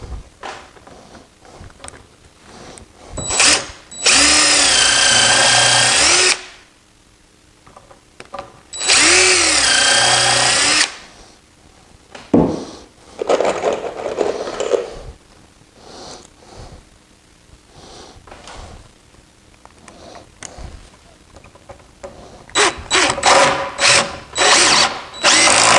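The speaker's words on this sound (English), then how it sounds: "I'm pre-drilling these." A power drill pre-drilling wood for a wooden vehicle gate whines in two strong bursts of a few seconds each, separated by shuffling and handling noises, then another short run near the end.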